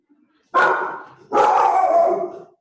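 A small dog barks twice nearby, a short yap followed by a longer, drawn-out bark that trails off, loud against an otherwise quiet indoor background.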